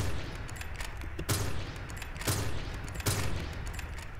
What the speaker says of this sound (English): look at this epic sniper shot